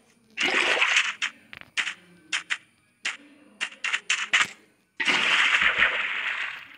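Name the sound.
placing water in Minecraft video game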